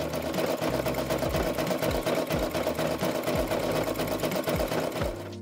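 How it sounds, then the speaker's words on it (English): A computerized embroidery machine stitching out a logo test design, a fast steady mechanical needle chatter with regular rhythmic thumps and whirring, close and continuous. "it's time to send the design to the machine and try our second test stitch out"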